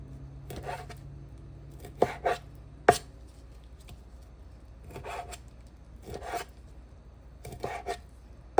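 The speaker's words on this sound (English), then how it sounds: "Go chop them up" A knife chops raw shrimp on a cutting board in short bursts of quick, crisp taps separated by pauses, close and fairly quiet, with no talking.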